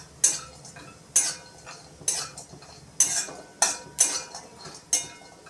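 Grated coconut stirred and roasted in a metal pan for an egg curry, heard as a series of sharp, close scraping clinks of a spoon against the pan at roughly regular intervals.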